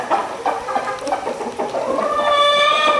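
A gamefowl rooster clucks close by in a quick string of short calls, ending in a longer, sustained drawn-out call.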